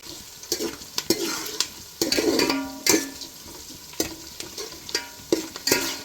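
Onions frying in a pan for biryani, with a soft steady sizzle broken by repeated sharp scraping stirs and clinks of a utensil against the pan, close up and without talk.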